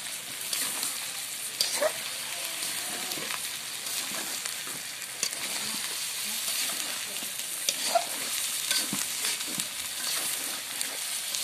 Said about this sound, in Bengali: এই মশলাটা দিয়ে আপনারা একটু ভাজা ভাজা হবে, তেলের মধ্যেই মশলাটা আর কি থাকবে।